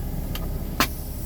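A truck creeps forward at low speed during a CDL service brake test, giving a steady low engine rumble with a brief hiss or click partway through and a sharper transient near the end.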